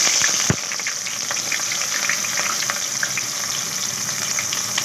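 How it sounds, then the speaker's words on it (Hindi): Onions frying in hot oil for a moringa and chicken dish, a close steady crackling sizzle with small pops, starting with a brief sharp knock as they go in. "ऑयल गर्म हो गया है। अब मैं इसमें प्याज डालती हूँ।"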